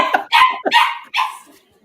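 A dog barks three times in quick succession, close and loud, with short sharp yaps and no talk over it.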